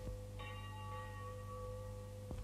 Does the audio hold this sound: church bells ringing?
yes